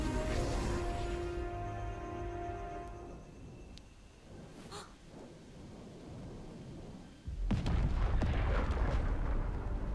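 Shooting and heavy explosions from the run-and-gun game Contra: Operation Galuga, a loud continuous rumble of blasts with a sharp burst and denser barrage in the last few seconds, no talking.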